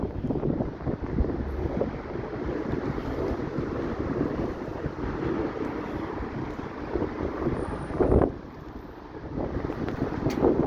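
Strong gusting wind of about 40 miles an hour during a snowstorm roars steadily into the microphone, a loud continuous buffeting with a brief heavier gust near the end, no talking.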